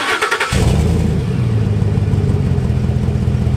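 A deep, loud exhaust rumble from a 2010 Ford F-150 5.4 truck with a cherry bomb muffler kicks in after a brief quieter moment, holding a steady, throaty idle.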